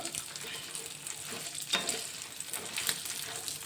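Ingredients for a tamarind chutney fry in a pan on a stove with a steady, soft sizzle, and a few louder scraping stirs break in now and then.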